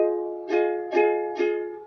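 The last chord of a song on ukulele, strummed three times in an even rhythm, each bright stroke ringing and decaying, close and clear with no talk.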